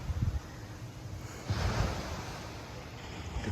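Wind blows through coconut palms in open, natural surroundings, giving a steady breezy rush that swells into a stronger gust midway, with a surf-like roar underneath and no voices.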